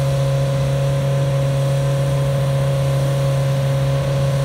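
Kawasaki ZRX drag motorcycle at a West Coast drag race, accelerating with a loud, steady, high-pitched engine drone held near and constant throughout, with no voices.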